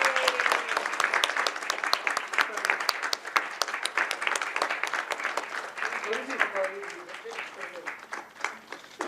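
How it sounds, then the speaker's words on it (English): A seated audience at a book launch claps in a busy, crackling burst of many hands, sharp individual claps standing out near the front and continuing steadily throughout. "We can still clap, even if we are seated."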